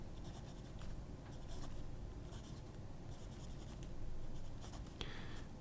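A Wingsung number 9 broad steel-nib fountain pen scratches steadily across Tomoe River paper, a close, continuous papery scrape with faint stroke rhythms and no talking.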